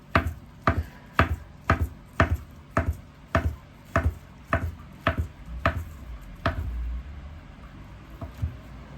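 A knife julienning imitation crab sticks on a cutting board, with steady, evenly spaced chops knocking against the wood, close and fairly loud, about a dozen strokes without talk.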